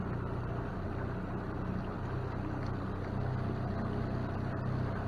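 A motorboat makes a test run after a jack plate adjustment, its engine a steady, loud, close rumble mixed with wind and water noise, continuous and with no talk.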